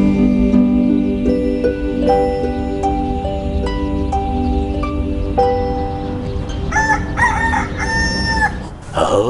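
A rooster crows loudly and close by, with a long drawn-out call and harmonic cackling in a neighbourhood setting, the crowing continuing without any speech over it.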